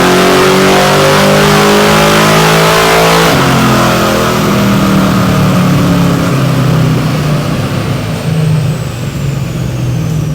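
A carbureted Chevrolet Malibu engine runs hard on a dyno, revving loud and steady, then climbing in pitch through the pull with a slight break-up toward the end, with no voices over it.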